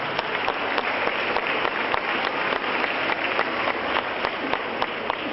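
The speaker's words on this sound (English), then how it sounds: "Please applaud for your parents." Sustained applause from an audience at a 2015 cultural competition, honouring the parents: dense, steady clapping throughout, with a few sharper individual claps standing out.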